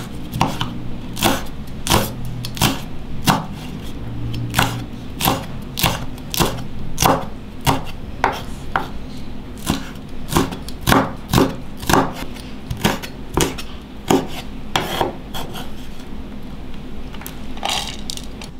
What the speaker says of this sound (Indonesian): Lima buah rawit merah dan 3 buah cabai merah keriting kita iris halus.